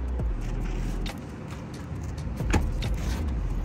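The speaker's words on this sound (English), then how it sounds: "I'm going to put the seats back up." Rear seats of a 2022 Tesla being raised back into place inside the car, a few soft mechanical clicks and thuds over a low steady cabin rumble, close by and without talking.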